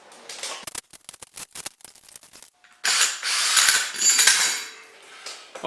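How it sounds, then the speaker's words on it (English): Screws are backed out of an anvil mounted on an old stump, first with rapid ratcheting clicks, then a loud sustained whir of a power drill that rises and falls, close up. "So I gotta take these 4 screws out."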